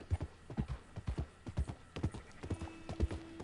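Horse hooves pounding in a steady, rhythmic gallop in the video game Red Dead Redemption 2, each beat a heavy, close thud repeating evenly throughout, with a faint tonal hum entering near the end.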